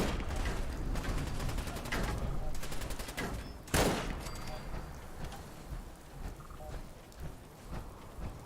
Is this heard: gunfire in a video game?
yes